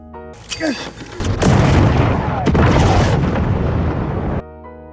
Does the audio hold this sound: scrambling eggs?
no